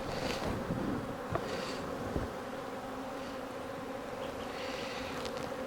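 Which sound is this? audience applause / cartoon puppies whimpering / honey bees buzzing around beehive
honey bees buzzing around beehive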